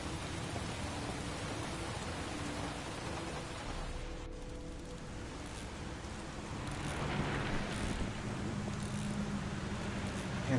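Steady rain from the video game Heavy Rain, a dense, even wash of falling water that holds at a constant level throughout and swells slightly louder in the second half.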